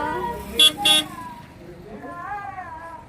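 A vehicle arriving at a crowded temple gathering for the Tukaram Maharaj Vaikunth Gaman ceremony gives two short, loud horn honks in quick succession, followed by a voice speaking nearby against steady background crowd noise.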